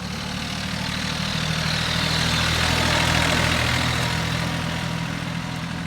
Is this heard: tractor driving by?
yes